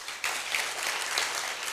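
A lecture audience bursts into applause at a guest lecture, the clapping starting abruptly and holding as a thick, even wash of claps for under two seconds with no voice over it.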